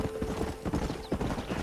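Horse hooves clip-clopping in the Red Dead Redemption video game, a steady close rhythm of hoofbeats on the ground with faint background ambience.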